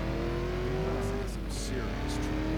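A Ford GT engine in the Driver San Francisco video game drones steadily at high speed, a constant close motor hum with faint game noises and a voice in the background.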